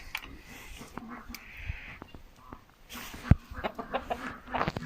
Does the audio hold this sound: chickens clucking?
yes